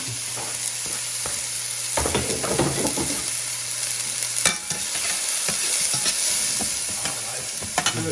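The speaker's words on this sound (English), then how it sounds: "Oil is nice and hot. Onions go in." Onions hit hot oil in a pan and fry with a steady, close sizzle, punctuated by clinks of a utensil stirring through the pan.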